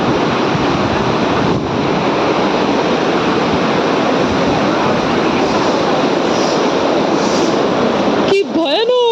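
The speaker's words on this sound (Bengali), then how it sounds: "কি আওয়াজ! ও মা গো, কি ভয়ানক ঝর্ণা এটা!" Loud, steady roar of a powerful waterfall rushing beside a bridge before dawn, a dense continuous wash of water noise filling the whole stretch before cutting off abruptly near the end.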